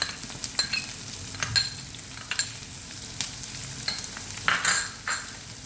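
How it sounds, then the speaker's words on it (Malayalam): Chopped medium onion sizzles in a pan while being stirred for an eggplant chutney (baingan bharta), with a steady frying hiss broken by regular scraping strokes of the spoon, close and fairly loud, no talk. "നല്ലോണം ഇളക്കി കൊടുക്കുക."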